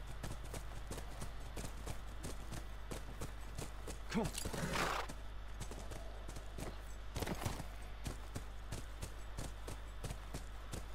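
Horse hooves clip-clop in a steady rhythm near a ranch in The Last of Us, with a brief voice and a louder burst of movement midway.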